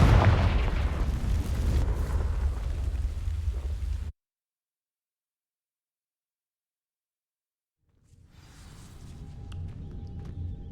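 Confringo fire spell in Hogwarts Legacy blasting dry vines, a loud rumbling burst with crackling debris that cuts to silence, then quieter ambient game sound returns.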